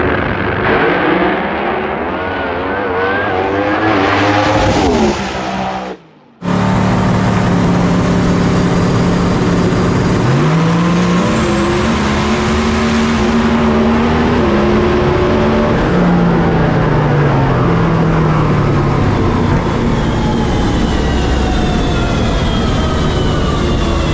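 A drag race car makes a fast pass down a cold drag strip at a World Cup event, its engine roaring loudly and continuously as the pitch climbs and falls through gear changes, with a brief cutout near the start.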